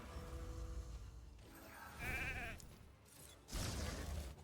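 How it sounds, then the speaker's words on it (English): Sheep bleats from a sheep ability in a video game, with a few distinct, fairly quiet wavering bleats over soft game background sound and no speech. "I also kind of want to turn off the sheep ability from Armanz"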